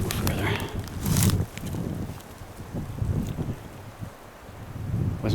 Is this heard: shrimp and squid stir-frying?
no